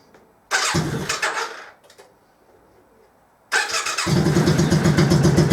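A motor trike engine cranks briefly, falls quiet, then fires up and settles into a steady, close, throaty running rumble.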